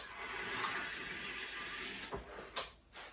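Cold water pours steadily into a bowl with a broad rushing hiss, then tapers off into a few brief splashes and trickles.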